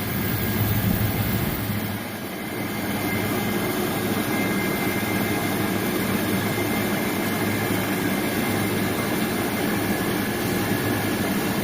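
An air conditioning system's compressor runs steadily during a pump down, giving a constant mechanical drone with a faint high-pitched whine, heard alone without talk.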